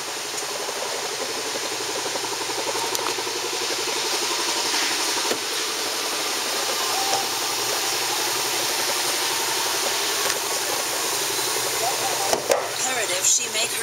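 A Kia Optima's 2.4-litre engine with automatic transmission, at 112,167 miles and with front-end collision damage, idles smoothly and quietly at a steady low hum, with a few clicks near the end.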